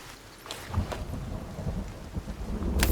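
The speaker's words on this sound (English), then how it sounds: "It's fucking raining" Rain and thunder in the survival video game Sons of the Forest: a steady patter of rain with low rolling thunder rumbles swelling underneath, fairly quiet and with no talk.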